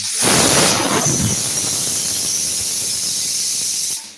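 A pressure cooker whistle shrieks loudly while cooking green pea curry, a sharp hissing blast of steam that holds steady for a few seconds before cutting off.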